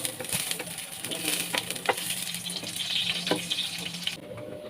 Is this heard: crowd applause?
no